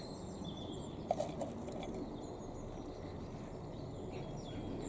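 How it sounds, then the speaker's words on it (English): Outdoor ambience in a kitchen garden with steady background noise, a brief flutter of wings and a few faint bird calls in the distance. "Listen to the birds though."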